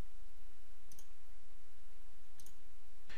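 Computer mouse clicks on mask buttons in photo-editing software, three brief sharp clicks spaced about 1.5 seconds apart, quiet and close over a low background hiss with no voices.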